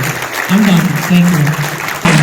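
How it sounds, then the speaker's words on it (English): A convention audience at a Wrestlecade 2021 wrestling panel claps steadily for Jeff Jarrett, a loud, continuous wash of applause with someone speaking over it. "So give Jeff a round of applause for that."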